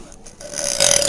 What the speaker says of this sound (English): Let's see if they can hear me burp.